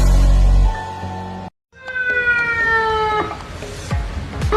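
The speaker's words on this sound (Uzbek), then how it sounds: "Tez yordam mashinamiz og'ir ahvoldagi bemorlarni xavfsiz va tezkor tarzda manzilga" Ambulance siren wailing loud and close, a steady tone that cuts out briefly and then returns as a rising, sweeping wail.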